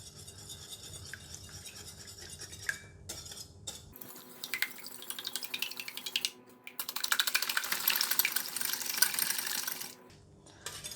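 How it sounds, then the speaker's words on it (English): Eggs beaten in a bowl with pepper and onion oil for an omelette, a fast steady clatter of whisk or fork against the bowl that builds in intensity, then stops near the end. "I'm going to beat the eggs"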